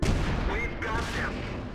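A tank gun firing in World of Tanks, one loud booming shot at the start with a rolling rumble trailing off under a brief voice.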